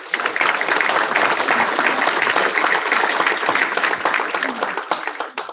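Audience at a township council meeting applauds youth players moving up from 8U to 10U; a full, steady burst of clapping that fades out near the end.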